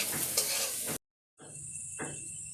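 Dried Bombay duck fish seasoned with salt and turmeric sizzles lightly in a pan with stirring scrapes, then cuts to silence before the frying hiss resumes with another stir.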